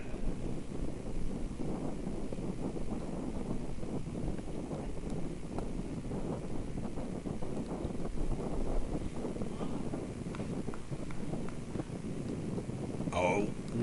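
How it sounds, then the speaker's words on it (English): Wind buffets the microphone throughout at an outdoor high school baseball game, a steady loud rumble and roar behind netting with no clear speech over it. "Oh, windy day"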